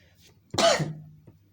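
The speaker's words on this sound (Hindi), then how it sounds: "सॉरी खांसी आ गया" One single close cough, sharp at the start and trailing off, in an otherwise quiet room.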